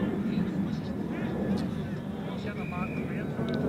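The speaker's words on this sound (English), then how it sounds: "You can hear the plane probably overhead here." An airplane passes overhead during an amateur football match, a steady broad engine drone spread through the whole stretch beneath faint voices and field noise.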